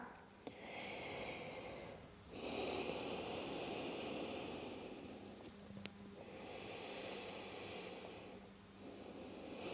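Deep, slow breaths during a forward fold hamstring stretch, long airy inhales and exhales in broad swells separated by short pauses, close and soft, with no speech.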